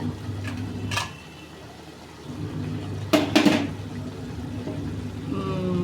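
Ginger garlic paste stirred into chicken in a pan for a chicken gravy, giving a few scattered scrapes and clinks over a steady low kitchen hum, with a brief clustered burst of clatter midway.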